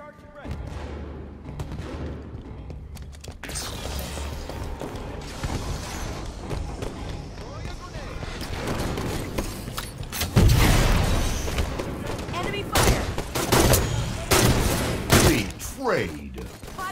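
Sniper rifle shots and other gunfire in a Halo 5 Slayer match, with booming shots and mechanical clanks amid game effects, a heavy burst about two-thirds through, and a player talking over the action.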